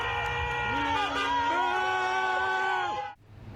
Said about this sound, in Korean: 바이든 지지자들은 트럼프가 복귀하는 길목에서 야유를 보냈습니다